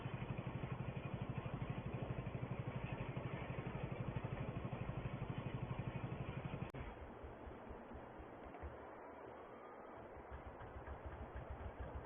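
Vintage tractor engine at Attingham Park chugging with a fast, steady rhythmic thump, then abruptly dropping to a rougher, quieter idle halfway through before running on.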